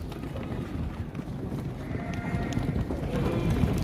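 Lambs bleat on a farm at weaning time, a few wavering calls rising over a steady, busy background of livestock noise and shuffling.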